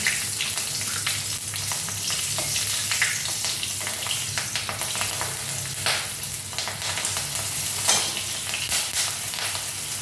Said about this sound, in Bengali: তারপর এই দুটো লঙ্কা আমি ফোড়নে দিয়ে দিচ্ছি।